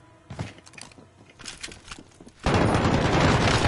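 Gunfire in Call of Duty: Warzone, starting as scattered shots and movement sounds that burst into a loud, dense barrage of continuous fire in the last second.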